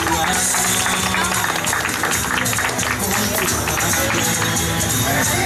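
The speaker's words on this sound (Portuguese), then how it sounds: "Uma salva de palmas pra ela" A crowd at an anniversary celebration for Ângela keeps up loud, dense clapping from start to end, mixed with voices and general commotion.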